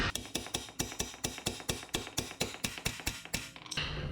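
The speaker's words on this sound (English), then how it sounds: "we can take a hammer, smack the bottom" A hammer strikes the bottom of a car ball joint on a Kia Optima 2.0L control arm, around fifteen sharp metallic blows in a quick, even rhythm, close and alone, before a brief rattle at the end.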